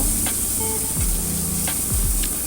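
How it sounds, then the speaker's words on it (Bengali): Tomatoes fry in a pan for bhorta, a steady loud hiss and sizzle with occasional utensil clinks and low tonal hum underneath. "টমেটো ভাজা হয়ে গেছে"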